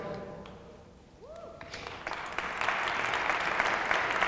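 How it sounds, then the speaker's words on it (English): After a brief spoken phrase, the audience at the State of Northern Manhattan Address starts applauding, the clapping swelling quickly into a full, sustained round that fills the rest of the moment. "Let's applaud them for having kept the show positive."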